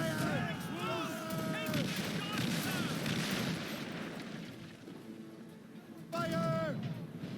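Ship cannons fire in Assassin's Creed Rogue, deep booms rumbling beneath loud shouting crew voices that nearly cover them, with a heavier burst of blasts near the end.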